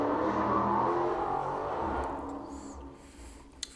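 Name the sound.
loud car engine revving outside on the street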